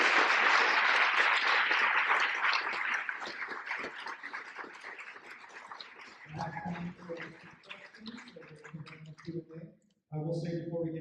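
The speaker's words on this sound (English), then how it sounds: "one more round of applause, please, to show our great appreciation" Audience applause at a university literature lecture, a dense round of clapping that thins out over several seconds, then gives way to a speaker talking with short pauses.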